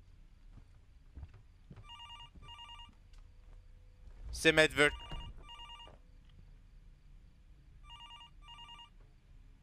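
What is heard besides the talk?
telephone ringing in video game Fears To Fathom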